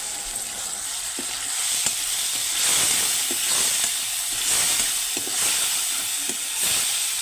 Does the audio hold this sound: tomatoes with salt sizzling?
yes